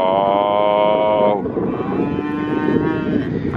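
A cow moos loudly and close by, one long drawn-out low call that breaks and continues more roughly, with no other sound over it.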